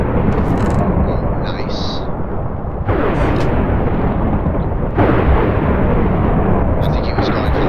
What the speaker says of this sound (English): you probably can't hear me very well because of all the lightning